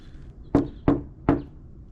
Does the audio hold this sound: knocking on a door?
yes